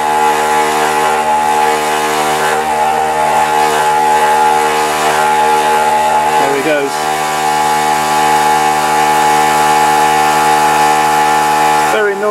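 A noisy pump empties the tank of a small still into a demijohn with a loud, continuous mechanical whine that holds steady throughout, while a voice speaks briefly over it.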